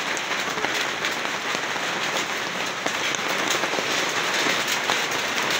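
Steady rain patters densely on a surface nearby, a continuous hissing wash of drops with no voices.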